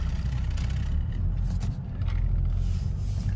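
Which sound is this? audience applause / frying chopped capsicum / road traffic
road traffic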